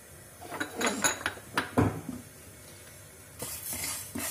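Coriander, mustard seeds, fennel and cumin dry roasting in a hot pan, stirred with a metal spoon that clinks and scrapes in short bursts, close up with no talking.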